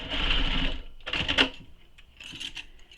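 A sewing machine stitches the long side seam of a Sage Satchel bag, running in three short bursts with brief pauses between, close and moderately loud, with no talking.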